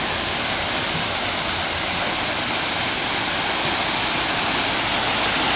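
Waterfall in an office courtyard with walkways and a koi pond, a loud, steady broadband rush of falling water that stays constant throughout with no voices.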